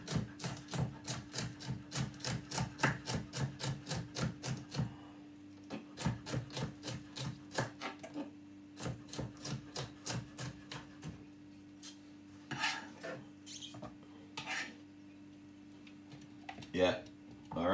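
A knife chops red, green and gold peppers into small pieces on a board, a fast run of sharp, even taps that pauses and then resumes in slower, scattered strokes, with a steady low hum underneath.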